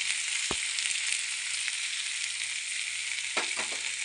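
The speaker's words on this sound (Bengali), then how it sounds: "তেলটা গরম হয়ে গেছে, এখন আলু মাংসটা দিয়ে দিলাম।" Potatoes and chicken pieces sizzle steadily in hot oil for a chicken curry, a continuous bright frying hiss with a couple of sharp clatters as the food drops into the pan.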